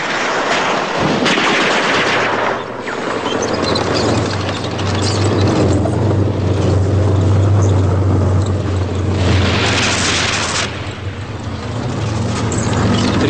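During the large-scale Bulgarian army exercise Shield-82, firing groups pour sustained machine-gun and gunfire onto fortified positions: a loud, dense, unbroken rattle with deep booming rumble underneath, no voices.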